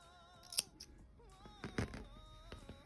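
Scissors snipping crochet yarn to leave a tail: a crisp close snip followed by a few softer quiet snips and handling rustles, no voices.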